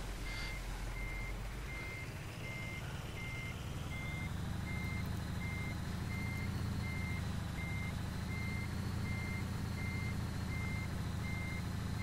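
Steady, evenly spaced reversing beeps from a heavy truck hauling a 35-tonne crane in Euro Truck Simulator 2. The beeps repeat over a constant, loud engine rumble.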